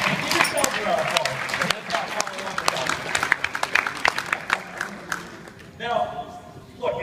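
Audience at an illusionist's show clapping, scattered sharp hand claps mixed with a voice and room noise, thinning toward the end.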